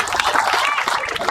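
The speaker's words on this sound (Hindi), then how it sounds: "ऐसी शारदा माता के लिए हम भी जोरदार ताली बजाते हैं" An audience at a Bhagwat Katha religious gathering claps in a short, lively burst of applause, with a voice faintly mixed in beneath the clapping.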